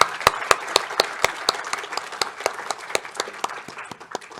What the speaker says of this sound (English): let's give a round of applause for Rob.